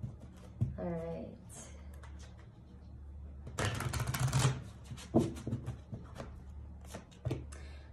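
Cards shuffled up close in a brief rapid riffle, with a person talking before and after it.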